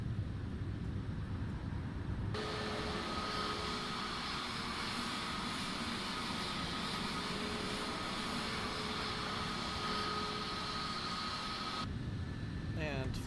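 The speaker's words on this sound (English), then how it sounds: "Let's drop the gear down." Airbus A321neo landing gear lowering in Flight Simulator 2024: a broadband rushing roar swells in, holds steady for about ten seconds under the engine hum, then cuts off, heard from inside the aircraft.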